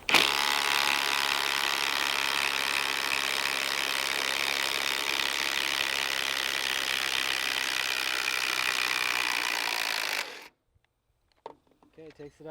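A Ridgid subcompact power drill runs loud and steady for about ten seconds as it backs a lag bolt out of wood, then cuts off abruptly, leaving near silence with a few faint clicks.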